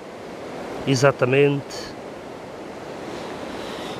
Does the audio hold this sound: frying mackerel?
no